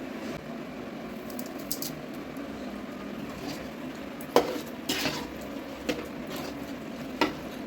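Chicken being stirred with masala in a pot for a mint chicken gravy, giving scattered scraping and clinking of a utensil against the metal pot over a soft, steady low background, with a few sharper knocks toward the end.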